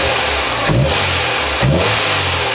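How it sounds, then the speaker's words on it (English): A Dodge Ram truck engine runs loudly and steadily close by, rising in two short revs about a second apart. "Rev it up there, Jackson."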